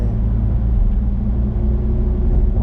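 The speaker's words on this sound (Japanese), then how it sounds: "V10 エンジンの迫力あるサウンドが聞こえてくる" A Lamborghini Huracán EVO Spyder's V10 engine rumbles steadily nearby, a deep throaty drone with no voices over it.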